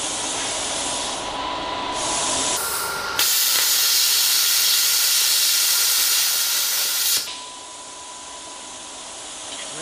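A Thermal Dynamics Cutmaster 60i plasma cutter slices through eighth-inch aluminum, giving a loud, steady roaring hiss that holds for several seconds, bracketed by quieter hissing before and after, with no talk.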